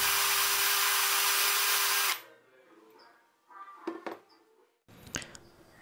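A Black+Decker Multi Evo cordless drill runs with a loud, steady high whine for about two seconds and then stops, followed by quiet handling clicks and knocks.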